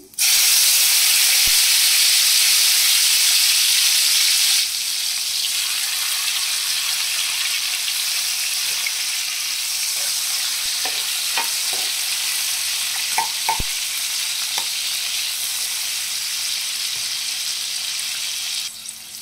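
Cumin seeds and whole garam masala frying in hot oil in a pan, a loud hissing sizzle that bursts up and then settles into a steady crackle, with occasional spoon taps and scrapes as it is stirred.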